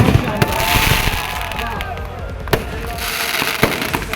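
Fireworks bursting at the Dewa Sharif Mela fair display, a steady crackle of bangs and sharp pops over a loud, dense crowd roar, with a few stronger cracks standing out.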